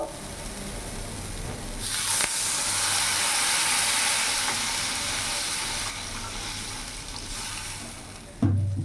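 Fish masala curry gravy bubbles in a pot, sending up a broad steady hiss and sizzle that swells after a short quiet start, holds for several seconds, then drops away, ending in a soft clunk.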